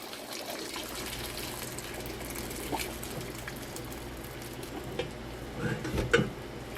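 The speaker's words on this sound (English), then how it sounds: "I am draining that water off the pasta." Water gushes and splashes steadily as it drains off cooked pasta through a colander, with a faint sizzling hiss and a few louder splashes toward the end.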